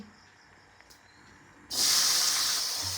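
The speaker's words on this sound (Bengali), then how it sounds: "আলু বরবটি ভাজবো তেল অলরেডি কড়াইয়ে বসিয়ে দিয়েছি" Potatoes and long beans dropped into hot oil in a wok, a sudden loud hiss bursting in after a quiet start and then holding as a steady close sizzle.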